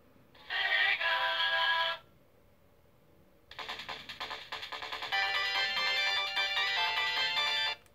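Chiptune-style video game music and sound effects from Sonic the Hedgehog running on a Retrogame RS-97 handheld with CFW 1.2, a bright burst followed by a pause and then steady melodic music, fairly loud and clear with no talking.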